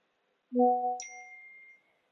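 A phone notification chime plays once, a bright three-note ding that rises in pitch and rings out for about a second, fairly quiet in an otherwise silent room.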